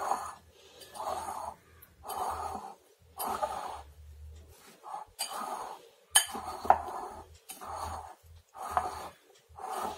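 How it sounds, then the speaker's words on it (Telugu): A fork works salted Indian gooseberries for pickle in a bowl, producing rhythmic scraping and clinking strokes that repeat about once a second, close and fairly quiet. "మొత్తం ఈ ఫోర్క్ తోటి ఇట్లా కలుపుకుందాము."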